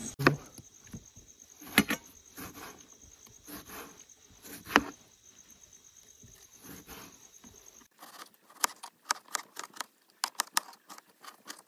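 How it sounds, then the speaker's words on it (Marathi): Night insects chirp in a forest at dusk at a camping spot, a steady high shrill chorus with scattered clicks and rustles nearby. "रात्रीचे जे किडे वगैरे ओरडतात ना त्यांचा आवाज यायला लागला."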